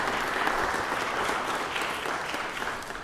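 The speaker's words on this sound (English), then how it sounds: "just give them a round of applause and welcome them to the Chamber" Applause from people in a state Senate chamber welcoming guests during a legislative session, steady and full for the whole stretch with no voices over it.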